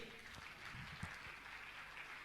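An audience claps during an honouring of donors at a Jain religious gathering, a steady, somewhat distant patter of applause running evenly throughout.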